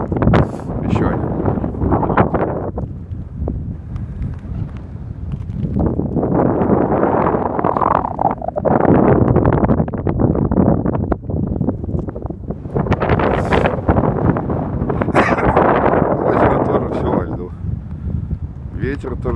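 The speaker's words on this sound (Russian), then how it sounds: "Ветер тоже сильный, северный, аж задувает." Strong northerly wind sweeps over frozen river ice, roaring and buffeting the microphone in continuous loud gusts that rise and fall, with a voice speaking under it.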